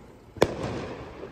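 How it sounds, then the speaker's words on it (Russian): Fireworks for Swiss National Day, fired near a school, give a single sharp bang followed by a softer rumbling tail, heard from some distance outdoors. "Вот и салют."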